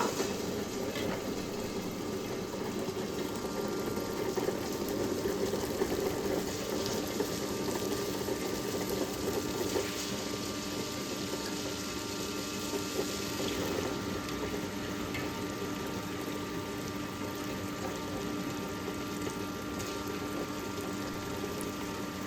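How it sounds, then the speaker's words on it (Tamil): An Ultra Perfect+ wet grinder runs with a steady, even motor drone and rolling churn as rice goes into it, continuous and close with no talking. "இப்போ கிரைண்டரை ஆன் பண்ணிவிட்டு அதுக்கப்புறம் அதில் அரிசி போடுவேன்."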